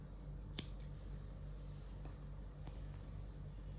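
Scissors snip through the leftover tail of crochet yarn on a flower pot coaster, one quiet close cut followed by a second soft snip, then only faint room hush.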